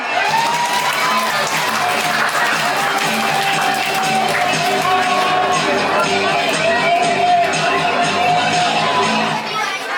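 Applause and cheering from a crowd of children and young people at an English and character camp, a dense steady wash of clapping and voices that lasts the whole stretch with no pause.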